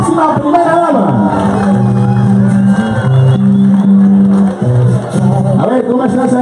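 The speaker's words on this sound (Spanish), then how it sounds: "un fuerte aplauso también a quien será nuestra próxima primera dama" A large crowd at a Gustavo Petro rally in San Andrés Islands cheers loudly and continuously, with massed shouting and voices rising and falling throughout.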